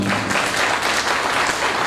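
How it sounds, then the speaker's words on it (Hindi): Loud, dense applause from an audience at a company's annual function, sustained clapping throughout with no pauses. "आप लोगों से जोरदार ताली चाहूंगा"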